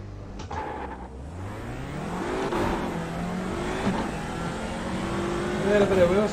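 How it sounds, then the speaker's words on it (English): Touring car racing video game at Brands Hatch GP, engine revving as the wheels spin off the start line, rising in pitch while someone talks over it. "Little bit of wheel spin at the start."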